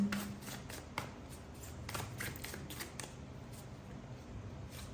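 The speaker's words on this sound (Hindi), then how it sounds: "आइए व्यूअर्स, हम एक कार्ड और लेते हैं इस डेक से" A card is drawn from a deck, with soft, close papery flicks and slides repeating quietly over a faint background hiss.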